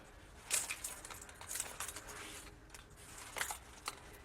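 A set of keys jangling softly, a few faint metallic shakes and clinks scattered over a few seconds against a quiet background.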